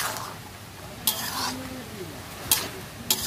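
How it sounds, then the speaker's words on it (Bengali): A cooking pot of khud rice chachchari, Bengali broken-rice dish, stirred with a spoon: soft scraping swishes and three sharp clinks against the pot, close and fairly quiet. "এবার এটাকে এইভাবে নাড়তে থাকবো।"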